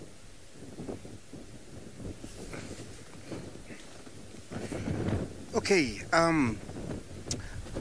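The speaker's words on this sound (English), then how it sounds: "it is very windy" Strong wind buffeting a safari vehicle's microphone on an open grassland game drive, low rumbling gusts that swell louder toward the end while a person speaks briefly and other voices come and go underneath.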